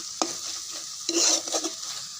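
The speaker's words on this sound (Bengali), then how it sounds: "একটু ঘেঁটে নেব ভালো করে, ঘেঁটে নিলেই হয়ে যাবে।" Cooked thankuni greens are stirred and mashed in a pan, with a soft scraping burst near the start and a longer run of sizzling, scraping strokes in the middle, heard alone at close range.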